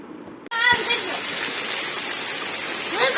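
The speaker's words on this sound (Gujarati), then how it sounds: "મિત્રો આજે અમારા ગામમાં પડી રહ્યો છે વરસાદ।" Heavy rain pours down in a village, an abrupt dense roar that starts after a short quieter moment and then holds loud and steady, like a downpour hitting the ground and roofs.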